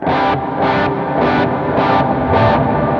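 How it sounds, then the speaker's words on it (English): Plate reverb setting on a Jet Pedals Revelation ambient pedal, washing over a sustained, distorted guitar tone that pulses in five even swells, loud and dense, with no talk. "Now our next algorithm here is the yellow algorithm, which is the plate reverb"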